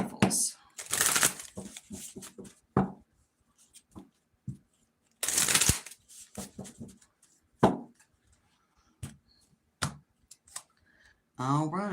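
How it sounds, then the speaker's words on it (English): Tarot cards are shuffled in several quick riffling bursts separated by pauses, with crisp clicks and flicks close up; a voice briefly speaks near the end. "Let's do 2 more shuffles."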